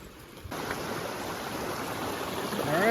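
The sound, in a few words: small mountain stream flowing on hiking trail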